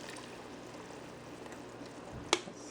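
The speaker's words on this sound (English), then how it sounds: "I usually pour it against the ladle or something so it doesn't splash too much." A liquid hot pot mixture for Khmer Ya-Hon poured against a ladle makes a steady, soft trickling stream, ending in a brief sharp clink near the end.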